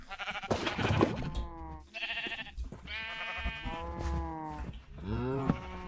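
Sheep in the Minecraft video game bleat over and over, several loud, close, wavering calls following one another with only short gaps and no talk over them.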